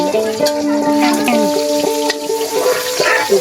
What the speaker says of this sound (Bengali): পেঁয়াজ মশলা কষাচ্ছে মশলা কষাচ্ছে